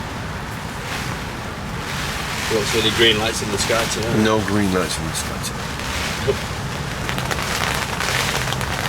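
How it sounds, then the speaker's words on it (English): Strong gusting wind of around 50 mph with lashing rain roars steadily against the microphone outdoors at a pool, as people talk over the rumble. "today, this lashing down, 50-mile-an-hour winds"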